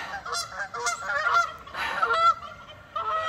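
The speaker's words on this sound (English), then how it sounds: "And here come our geese." Several geese honking in a loose, overlapping series of loud, nasal calls, fairly close, with brief pauses between bursts.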